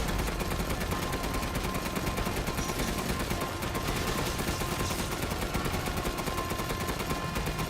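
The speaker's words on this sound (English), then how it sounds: "This cannon is really useful." Rapid cannon fire in the video game Resident Evil Village, dense continuous bursts of loud gunfire-like blasts that keep up without a break for several seconds, with no voices over it.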